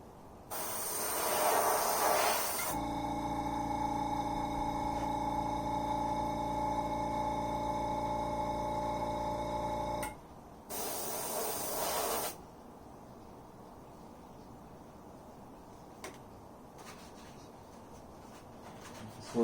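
Rust-Oleum spray paint hissing from a can onto a BC Rich Warlock guitar body, two short bursts around a longer steady hissing stretch with a humming tone beneath, followed by quieter background noise.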